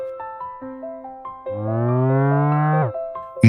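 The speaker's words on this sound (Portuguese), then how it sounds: "Eu andava entre os bois, milhares deles." Cattle low repeatedly among a large herd of oxen, several short overlapping moos building into one long, loud sustained bellow near the end, with no talk.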